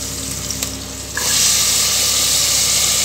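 Carrot, beans and potato tossed into fried onion masala for a kurma, the pan's sizzle jumping suddenly louder as they go in and then holding a steady, close hiss.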